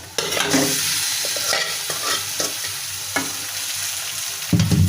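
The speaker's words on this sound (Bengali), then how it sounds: "এখন শাকগুলো দিয়ে ভালোভাবে নেড়ে চেড়ে নেব" Greens stirred into onion, garlic and green chilli frying in a pan, a continuous close sizzle with repeated scraping stirs of a spatula and a louder burst at the end.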